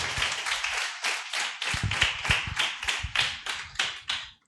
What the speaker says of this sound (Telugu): చప్పట్లు కొట్టి దేవుడు నామముని మహిమపరచు.